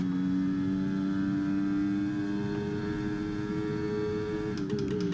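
Steady high-pitched whine of an F1 car engine held at high revs in 7th gear in the F1 23 racing game, droning continuously with a slight pitch drop near the end and no voices.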